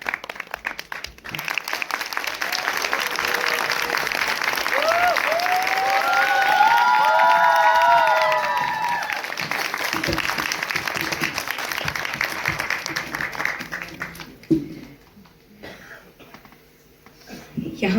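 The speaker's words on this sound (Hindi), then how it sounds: "तो लीजिए एक बार जोरदार ताली" Loud, sustained audience applause at a Kathak dance festival in Faridabad, many hands clapping steadily for a long stretch before fading into faint talk near the end.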